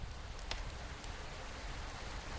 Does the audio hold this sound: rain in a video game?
yes